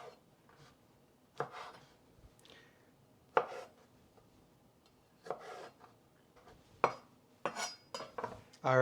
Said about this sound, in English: we're gonna quarter up these tomatoes